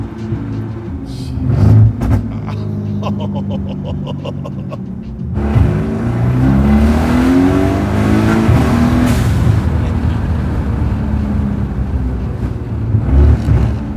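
A 1,000-horsepower twin-turbo AMG car accelerating hard, the engine revving up loudly through gears with a brief shift break and a rising, roaring pull that stays close and dominant throughout.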